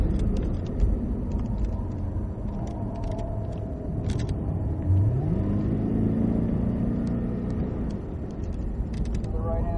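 A Cadillac CTS-V accelerating at full throttle on a race track: a loud, continuous engine roar heard from inside the car, its pitch climbing steadily partway through.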